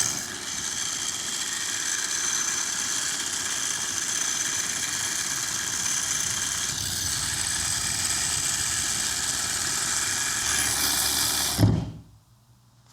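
A Parkside 12V cordless angle ratchet spins a bolt loose in one long, steady buzzing whir with a mechanical ratcheting rattle, close and continuous for about eleven seconds before stopping abruptly with a clunk.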